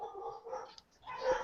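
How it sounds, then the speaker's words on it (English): Pet dogs in a home bark faintly in the background, a few soft, muffled yaps and whimpers sitting low behind quiet household sound and a hint of voice. "Look, they're barking at nothing."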